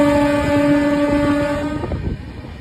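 A train pulling into Rampurhat station sounds a loud, sustained horn close by over the rumble of the cars, then the horn cuts off and the rolling noise fades.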